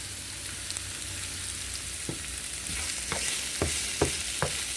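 Onion sizzles and fries in a pan on turned-down heat, a steady hiss broken by a run of sharp utensil taps and scrapes that grows more frequent toward the end.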